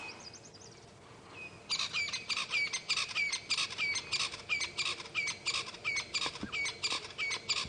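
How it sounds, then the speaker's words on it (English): A francolin, taken for a Crested Francolin, calls at sunrise in the African bush, giving a long run of rapid, evenly spaced, scratchy notes that carry clearly over a faint background of other birds. "Let's try to find this Francolin that's calling"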